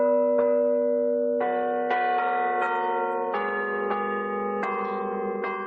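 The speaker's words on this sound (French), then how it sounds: "nous entendons une autre cloche voisine" Bells of the manually played carillon in Rouen cathedral ring close and clear in a slow sequence of single strikes on different pitches, each tone hanging and overlapping the next, with no voices.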